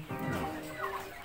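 Soft clucking from two European Shamo hens, a few low murmuring calls close by over a steady background hum.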